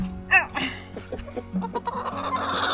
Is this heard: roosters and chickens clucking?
yes